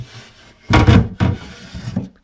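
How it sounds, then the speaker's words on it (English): A glass shelf being slid out of a Bosch fridge freezer, giving a few close, loud clunks and scraping rattles in quick succession, then fading to quieter knocks. "So if we just move this shelf out the way"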